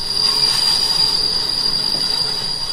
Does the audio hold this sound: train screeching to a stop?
yes